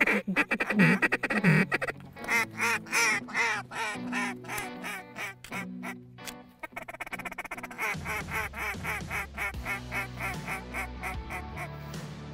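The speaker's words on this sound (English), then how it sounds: "Oh, pintails." Pintail ducks call in a steady stream of repeated quacks and nasal calls, fairly close and loud, rhythmic and continuous, on the last day of duck season while hunting.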